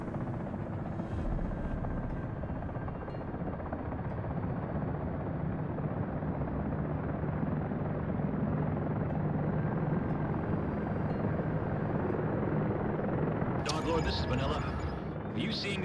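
A helicopter engine roars continuously in the Comanche video game, a dense steady rumble and rotor drone throughout, with a sharper burst near the end and people talking over it.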